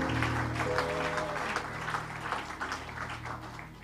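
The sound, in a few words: audience applause, hand clapping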